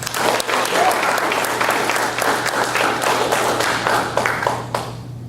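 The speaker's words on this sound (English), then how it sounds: "Some applause, please." Full audience applause at a university debate event, dense and steady for several seconds over a constant low hum, tapering slightly at the end.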